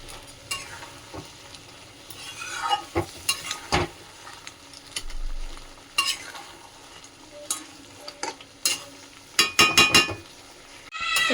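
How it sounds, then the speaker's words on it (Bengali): Crab pieces coated in masala are stirred and fried in a pan with a splash of water, giving a steady sizzle broken by repeated scrapes and metallic clinks of the spoon against the pan, loudest near the end. "এবার একটু জল দিয়ে ভালো করে কষিয়ে নেব।"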